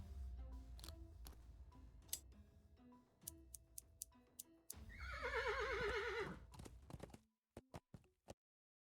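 A video game horse whinnies loudly and alone for about two seconds, with a wavering, rising-and-falling tone, set against soft ticking and scattered clicks of game sound effects before and after.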